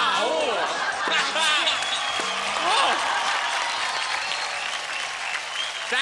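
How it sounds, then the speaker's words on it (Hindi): A crowd claps loudly and steadily during a Hindi-language show with scoring, while a voice talks and calls out over the clapping throughout. "एक बार जोरदार तालियां दोनों के लिए प्लीज"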